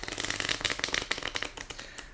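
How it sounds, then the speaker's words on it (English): Bicycle playing cards riffling in a quick shuffle, a dense crisp fluttering burst close by, with no voices. "Let's just shuffle the cards and see what comes up."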